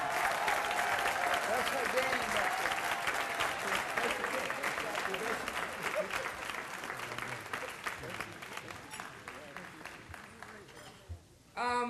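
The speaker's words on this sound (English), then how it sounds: "let's give a great round of applause for Miss Linda Martley Jordan" An audience applauds for Miss Linda Martley Jordan at an NAACP award event, steady clapping that fades over about eleven seconds, with a brief remark spoken over it.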